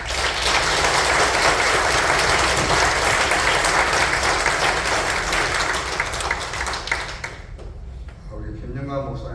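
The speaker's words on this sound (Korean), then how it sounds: "인사하실 때 한번 힘찬 박수 부탁합니다" Loud, sustained applause from a church congregation greeting the pastor's family at a Korean church installation and ordination service, a dense wash of clapping that fades out near the end.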